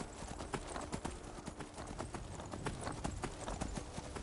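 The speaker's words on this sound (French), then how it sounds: "Notre cheval est là, parfait." Horse hooves clip-clop steadily in the Skyrim video game, a continuous, fairly close rhythmic trotting with distinct regular hoofbeats and no talk over them.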